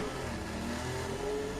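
A Formula 1 car engine nearly stalling in first gear at low revs, a rough, uneven engine drone with a faint whine, heard fairly quietly in a short burst.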